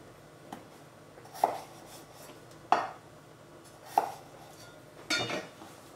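A knife cuts a potato in half for an Irish-style vegetable stew, giving four separate crisp chops spaced about a second apart. Each chop is a short thud of blade meeting board, and the last one is a little longer and rougher.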